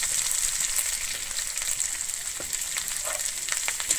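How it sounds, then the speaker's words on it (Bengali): Chopped onion fries in oil with garlic for a Bengali potol bhorta, giving a steady close hiss and fine crackle with faint stirring taps. "পেঁয়াজটা দিয়ে কিন্তু খুব ভালোভাবে আমি ভেজে নেবো।"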